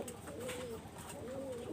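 A Sialkoti pigeon gives two soft, rolling coos, quiet and close, with a faint steady hiss behind and no speech.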